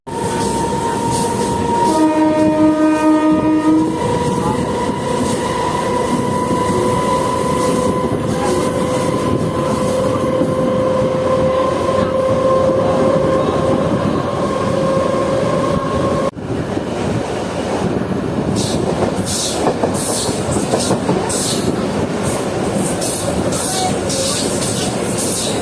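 A Katwa-Rampurhat MEMU passenger train runs at speed across points onto another line, its horn sounding early over a loud, continuous rumble, with rattling and clatter of the wheels growing rougher in the second half.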